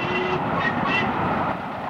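The Duchess of Hamilton steam locomotive, on a special run, hauls a train along the main line through a Peak District valley, a steady rumbling rush of wheels and carriages heard from a moderate distance.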